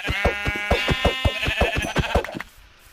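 A Minecraft sheep bleats in a fast run of repeated wavering calls, loud and close, stopping abruptly after a couple of seconds.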